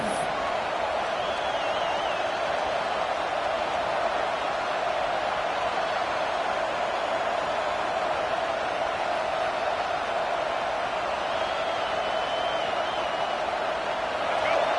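A football stadium crowd roars in a dense, continuous wall of noise that holds steady and loud throughout, with faint whoops rising above it, as the home fans try to help their defense in the red zone.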